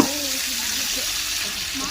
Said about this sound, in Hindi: चलें जी अब हम इसमें डालेंगे अदरक लहसुन का पेस्ट।